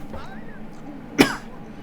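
A single sharp cough from a drunk movie character, brief and close, with talk around it.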